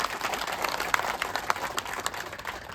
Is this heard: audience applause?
yes